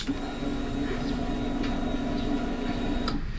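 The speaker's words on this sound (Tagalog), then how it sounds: "na marinig mo yung fuel pump mo" The fuel pump of a CF Moto NK300 motorcycle primes with a steady, close electric hum and faint whir that cuts off just before the end.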